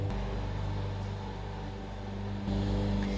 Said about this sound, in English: I gave my food processor a quick rinse and changed to this paddle. And I'm going to mix the cream cheese and sugar in there